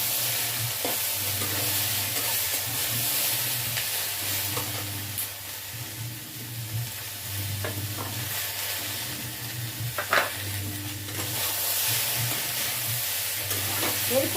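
Marinated eggplant slices fry in a small amount of oil with a continuous close sizzle and hiss, broken by occasional clinks and scrapes of a spatula turning them, no one speaking.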